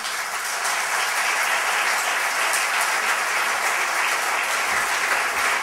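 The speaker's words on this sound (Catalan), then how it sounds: "un aplaudiment per a Pere" An audience applauds steadily for a journalist stepping up to present a press-freedom award, a dense, even wash of clapping that holds at constant loudness throughout.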